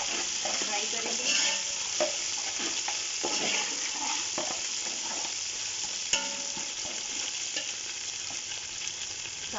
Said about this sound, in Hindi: ये अब इसमें मैं डालूंगी अदरक लहसुन का पेस्ट 1 बड़ा चम्मच भरकर। इसको भी हम लाइट सा फ्राई करेंगे